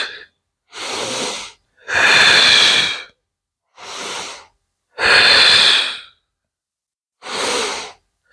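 Forceful breaths during an advanced ab workout: six separate bursts of breathy air, each about half a second to a second long, with silent gaps between, close and loud.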